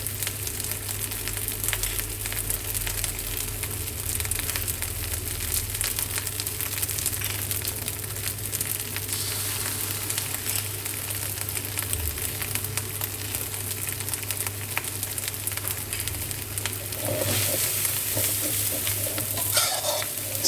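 Glass noodles stir-fried with seasonings and soy sauces for Thai pad woon sen, a continuous close sizzle with steady scraping and tossing, no voices.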